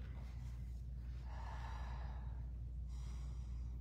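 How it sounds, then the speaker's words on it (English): Soft, breathy panting and exhaled sighs from a yoga instructor during a hatha flow, faint and close over a steady low background hum. "You guys can hear me panting."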